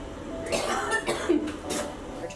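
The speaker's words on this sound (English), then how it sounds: "It usually causes me to cough a lot" Coughing follows hard blowing into a lung capacity machine in a hospital. Several muffled coughs and breathy bursts come close by at moderate loudness over a steady background hum.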